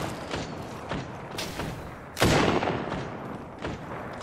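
Gunfire in the battle royale game Apex Legends, with repeated shots and impacts near the player, including a heavy blast partway through, then further bursts that trail off.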